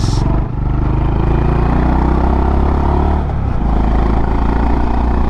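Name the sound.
motorcycle exhaust note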